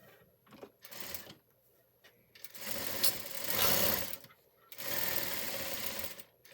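A sewing machine stitches a simple shirt in a tailoring boutique: close, fast mechanical whirring in three bursts of one to two seconds each, separated by short pauses.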